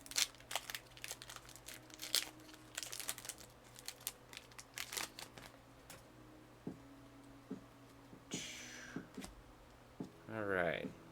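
Crinkling and tearing of a tightly sealed package as a Funko mail-call box and Pokémon Battle Styles booster packs are ripped open, with scattered sharp rips and crumples under ongoing talk, ending in a louder rising tear.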